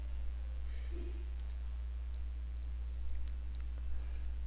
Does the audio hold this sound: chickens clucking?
no